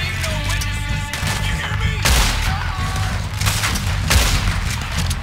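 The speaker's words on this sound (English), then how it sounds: "I think somebody is shooting me from up there." Enemy gunfire in Red Dead Redemption 2 cracks out in loud repeated shots with heavy booms, ringing over a rumbling game backdrop while someone speaks briefly.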